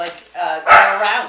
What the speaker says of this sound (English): Oh, the barking.